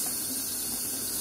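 Tap water runs steadily into a sink while a makeup brush is rinsed, a constant close hiss with no pauses and no voices.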